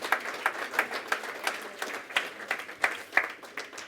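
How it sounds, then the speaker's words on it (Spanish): A church congregation at a resurrection service gives God a rhythmic hand clap, a steady beat of roughly three claps per second heard from a moderate distance, with no talking over it. "Give God a hand clap."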